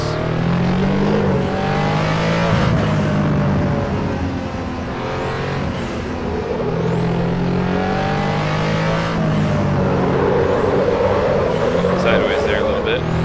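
A 1987 RUF CTR Yellowbird driven in the racing game Assetto Corsa, its engine revving up and down through repeated gear changes for a sustained, loud stretch, with tire noise and a voice talking over it.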